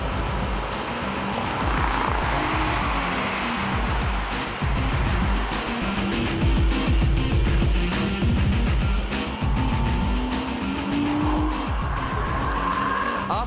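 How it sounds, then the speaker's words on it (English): A stock 2007 Nissan R35 GT-R laps a race circuit, its engine note rising and falling through gear changes with long stretches of tire squeal and skidding, loud and continuous throughout, with no talking. "Check out what a full lap of Scuba is like in the new Nissan GT-R."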